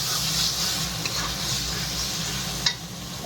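Green peas fry with spices in a pan, making a dense, close sizzle with stirring noise and a single sharp clack near the end.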